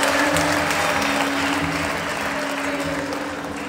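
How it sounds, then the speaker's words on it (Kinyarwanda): Sustained applause from an audience clapping for a mother, steady and dense, fading slightly toward the end with no speech over it. "mwamumpera amashyi menshi cyane mukagenda"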